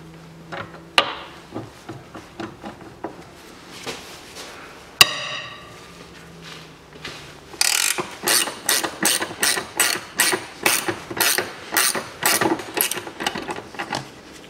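Impact wrench working on a steering tie rod end of a 1992 Volvo 740 2.3, with scattered metallic clicks and knocks first, then a run of rapid, rattling hammering bursts, close and fairly loud.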